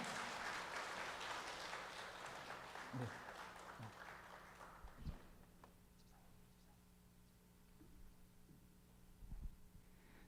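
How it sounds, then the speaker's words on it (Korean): Applause from a church service audience for a teacher's long-service award fills the opening seconds, then fades out, leaving a quiet hum with a few scattered thumps. "박수로 축하해 주시면 감사하겠습니다."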